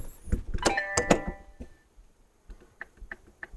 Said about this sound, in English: Let's get a little door chime.